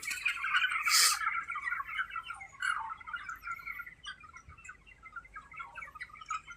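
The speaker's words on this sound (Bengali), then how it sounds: "এটা হচ্ছে নিচের ঘরের পাখি।" A dense chorus of chirping and squawking from about 250 birds fills a downstairs room, steady and busy throughout with no talking.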